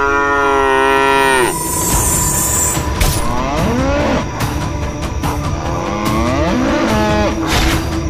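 Cattle mooing loudly and close as a sound effect in a horror story, with a long drawn-out low call followed by several shorter, wavering moos over a steady rumbling background.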